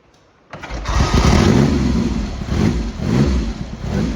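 A Triumph Hurricane (TRIX75) motorcycle, set to half choke, fires up on the first kick, jumping from near silence into a loud, rough, uneven running engine that stays close and throbbing throughout.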